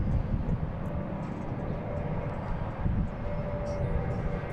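A JetBlue airliner at Boston Logan airport gives off a steady, broad rumbling roar from a distance, continuous and fairly loud throughout with no clear peaks.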